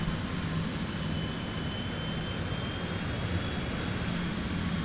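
A Citation X business jet drones steadily in a flight simulator game, a constant broadband engine roar with a faint high whine held at even loudness throughout, and no voices.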